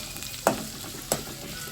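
Ingredients sizzling in hot oil in a pan for a green chicken dish, a steady frying hiss broken by two sharp scraping knocks of a stirring spoon, with no talking.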